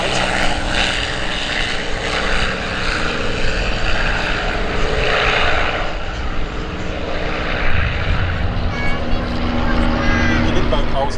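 A de Havilland Chipmunk propeller aircraft flies overhead at an air show, its engine droning loud and steady the whole time, joined by barnstormer planes, while an announcer talks over it.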